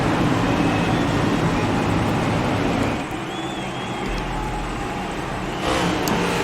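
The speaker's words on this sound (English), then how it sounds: "I can hear these virtual race cars from my house" Virtual race car engines roar in a racing video game at a super speedway qualifying session, a loud continuous whine and drone that dips briefly midway and then rises again.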